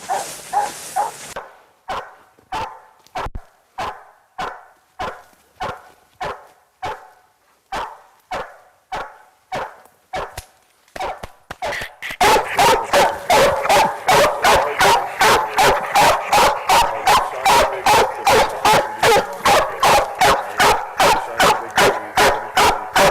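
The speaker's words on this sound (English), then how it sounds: "It's not much difference, but it's definitely tree barking now." A hound dog barks steadily at a treed animal in the woods, first in spaced bursts with brief pauses, then in a faster, louder, continuous chop of close barks.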